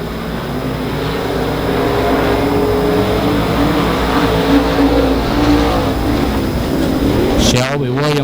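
Short-track race cars at Monarch Motor Speedway roaring around the oval in a pack, a steady loud engine drone with revving harmonics coming off a turn, ending with a close car passing by.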